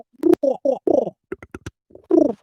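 Underwater fish vibrating its swim bladder: a few short, low grunting pulses and buzzy croaks in quick bursts, close and clear against near silence.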